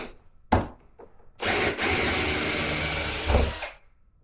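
Near and loud, a cheap power screwdriver drives a screw during an unboxing, with a couple of short clicks before it, then a steady buzzing whir of about two seconds that ends in a brief final push.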